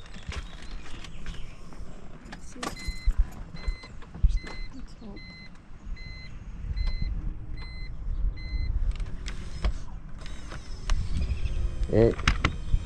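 Electric motor of a BMW E46 convertible top mechanism whirs and strains in bursts with clicks and clunks, close up, with occasional people's voices nearby.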